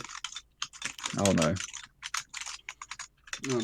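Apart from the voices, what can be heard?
person typing on a computer keyboard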